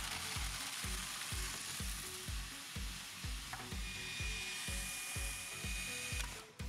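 A food processor pulverizes biscuits with butter into fine crumbs, a loud continuous whirring with steady rhythmic pulses of tumbling contents throughout, close up and alone.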